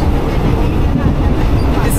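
Third class train running through Thailand with open windows, a loud dense rumble of wheels and rushing air, steady and close throughout with no pauses.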